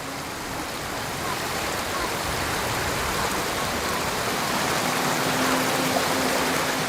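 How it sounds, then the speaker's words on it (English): A waterfall in the video game Ghost of Tsushima roars as a dense, steady wash of rushing water, loud and close, with no distinct breaks throughout. "Under the waterfall."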